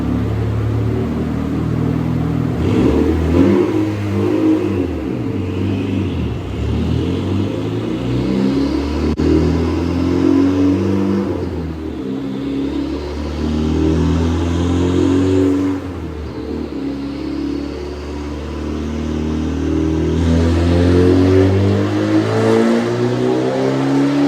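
A turbocharged Mitsubishi EVO 10 roars on a dyno, climbing in pitch through repeated revving pulls, then drops and surges again, loud and close with no voices.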